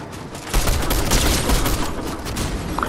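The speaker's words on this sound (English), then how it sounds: "Getting shot by somebody" Sustained gunfire in Fortnite, a loud dense stream of rapid shots running for over two seconds with no pauses and no voices over it.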